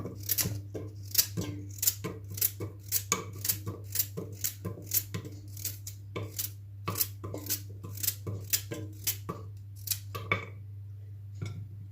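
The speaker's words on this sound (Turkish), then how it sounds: "Evet doğradım havuçlarımızı." Carrots are chopped with a knife on a board for cezerye, a steady run of crisp, close taps about two per second, each sharp and distinct over a low background hum.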